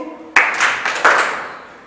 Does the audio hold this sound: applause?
yes